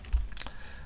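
A few soft keystrokes on a computer keyboard while a commit message is typed in a version-control program, quiet and brief with one slightly sharper click.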